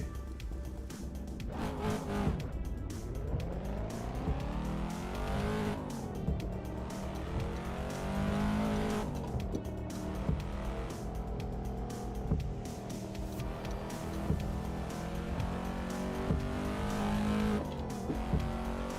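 A Cadillac CT5-V is driven with traction control off in American Truck Simulator. The engine revs hard in repeated rising sweeps as it climbs through the gears, loud and steady with brief tire noise.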